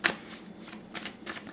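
Quick riffle shuffle of a tarot deck, three short papery bursts of cards close up, no talking.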